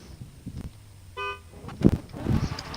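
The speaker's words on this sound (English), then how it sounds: "Right there's his horn." A drift car at a drift battle event gives one short, steady horn honk of about a quarter second, followed by engine and crowd noise.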